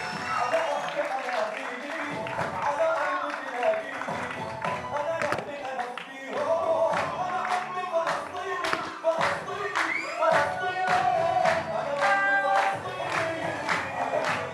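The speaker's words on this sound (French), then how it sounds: "on les applaudit" An audience claps and cheers at a show of embroidered Palestinian dresses: steady, rhythmic group clapping with shouts and voices mixed in, fairly close and sustained throughout.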